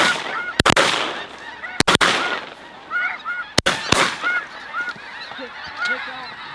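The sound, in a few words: flock of snow geese (blue geese) honking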